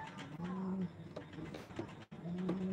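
Soft, low coos from Rajshahi Girabaz pigeons repeat at intervals, close by and gentle, with faint background noise between the calls.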